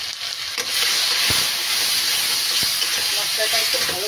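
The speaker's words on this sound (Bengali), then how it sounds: "মশলাটা একটু ভালো করে কষিয়ে নেব।" Spice paste with salt and ground green chilies stir-fried in a pan for a Bengali curry, giving a loud continuous sizzle and hiss with a few sharp spoon knocks against the pan, no talking.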